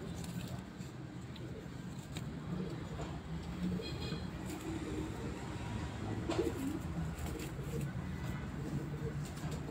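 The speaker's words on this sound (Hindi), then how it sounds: "क्रीज में पड़े हुए कबूतर हैं" Pigeons kept on a rooftop coo in soft, low, repeated calls under a steady background hum, with occasional faint clicks and rustles.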